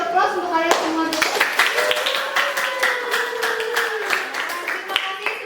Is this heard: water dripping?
no